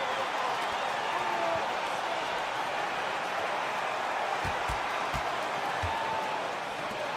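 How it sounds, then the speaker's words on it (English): Basketball arena crowd in a video game, a steady broad roar of cheering and murmur filling the space, with a few brief thumps near the end; a commentator talks faintly over it. "And the crowd is locked in."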